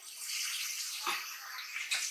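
Water runs steadily from a tap as eyes are rinsed, a close hissing splash with a couple of brief stronger gushes.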